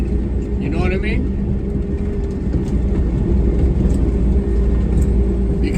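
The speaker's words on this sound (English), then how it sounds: "Because driving this truck down the road," A heavy work truck rolling down the road, heard from inside the cab as a steady, loud low rumble with constant road and engine drone and no break throughout.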